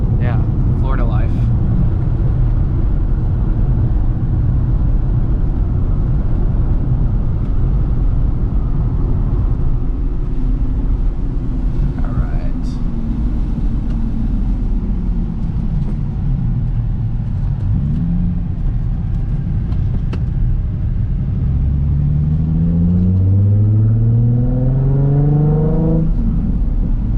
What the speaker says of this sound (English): Exhaust sounds so good.